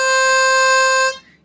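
A single-hole draw note on a harmonica, a steady, clean reed tone held for just over a second before it cuts off, with nothing else around it.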